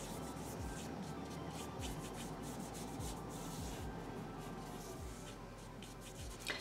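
Paintbrush scrubbing light blue paint into a textured canvas, a continuous close, soft rubbing and scratching with quick repeated back-and-forth strokes, no talking.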